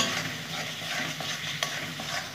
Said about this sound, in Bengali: দিয়ে দিলাম ধনেপাতা দিয়ে আমি ভালো করে নেড়ে নেব